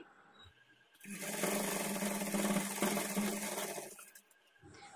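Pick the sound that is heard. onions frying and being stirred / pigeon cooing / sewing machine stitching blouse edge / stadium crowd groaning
sewing machine stitching blouse edge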